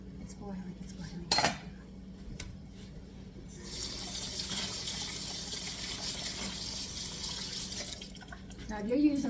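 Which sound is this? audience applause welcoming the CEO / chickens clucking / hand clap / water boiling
water boiling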